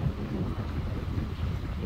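Steady low rumbling wind buffeting the microphone beside the Agusan River after a typhoon, continuous and fairly loud, with no clear voices over it.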